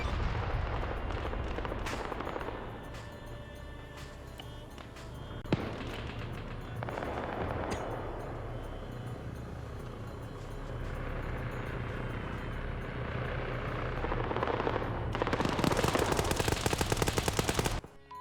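Sustained gunfire in a military video game: dense, continuous bursts of automatic fire and heavier thuds, loud and close throughout, building to a rapid rattling barrage near the end.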